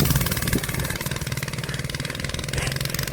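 Close, buzzy drone of a 100cc CRZ Racer go-kart engine held at full throttle, with a rough pulsing rhythm and steady loudness throughout.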